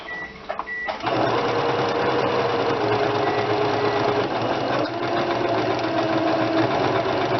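A sewing machine runs steadily in reverse, putting backward stitches into a small doll dress. It starts with a few short clicks, then keeps a continuous mechanical hum and rattle, close and unbroken.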